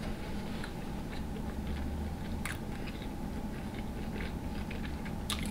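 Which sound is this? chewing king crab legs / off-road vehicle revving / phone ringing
chewing king crab legs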